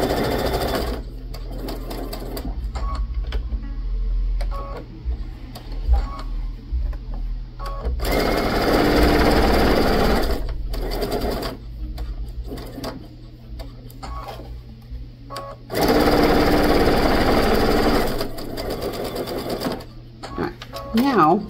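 Sewing machine stitching three sides of a square fabric pocket for a bag, running in steady bursts separated by pauses, with a person talking between runs.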